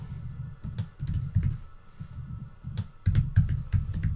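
Fingers tapping out words on a computer keyboard while writing HTML table headings, with irregular bursts of close, crisp key clicks separated by short pauses.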